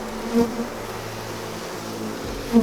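A steady drone of honeybees buzzing around an open hive during an inspection, a close continuous hum with a few louder passes as bees fly near, no speech.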